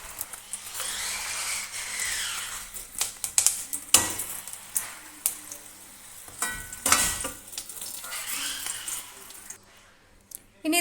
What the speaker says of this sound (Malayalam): ഇപ്പോൾ സവോള ഇവിടെ ഫ്രൈ ആയി വന്നിട്ടുണ്ട്.